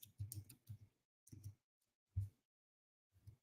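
Bursts of clicking keystrokes on a computer keyboard during a virtual meeting, coming in short irregular clusters separated by pauses, fairly close and quiet, with no talking.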